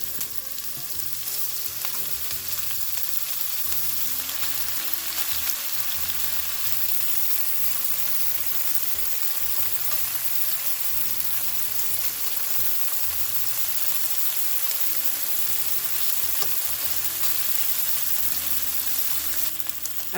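Sausage discs frying in olive oil in a skillet, a steady close sizzle with soft crackles and occasional stirring, continuous with no voices.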